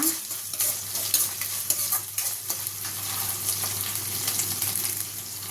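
Chicken frying in a pan, a steady close sizzle with occasional stirring scrapes throughout, no voices.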